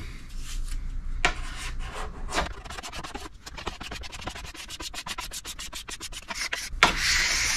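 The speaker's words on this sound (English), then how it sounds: "I'm almost done, about got it almost scraped off" A plastic scraper drawn repeatedly along a waxed snowboard base, rhythmic raspy strokes that speed into rapid short scrapes, close and fairly loud with no talk.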